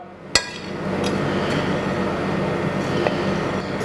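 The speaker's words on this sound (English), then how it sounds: "We just grind the whole spices into a nice powder." Whole spices are pounded in a pestle and mortar: one sharp knock near the start, then a steady grinding scrape with a few fainter knocks, close by, with no talk.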